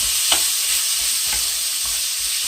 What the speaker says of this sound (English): Then we're going to add the zucchini to it.